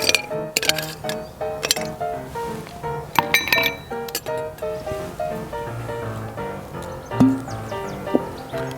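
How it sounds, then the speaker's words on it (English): Ice cubes clink and rattle into a glass for a gin and tonic, giving bright, sharp, irregular knocks with a few louder hits, close by in a quiet room. "Then you're going to get a couple of ice cubes."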